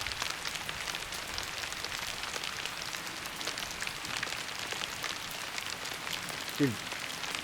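Steady rain falls outdoors on a cold April day, a soft, even patter of drops on surfaces, with a brief louder knock near the end.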